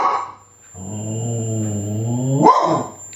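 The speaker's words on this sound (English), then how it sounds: "Sorry, it's my dog." A dog indoors lets out a long low growling whine that rises into a sharp bark near the end, loud and close with no talk over it.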